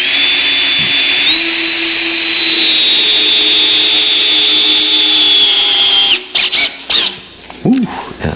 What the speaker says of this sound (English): Now all I got to do is run these screws down in,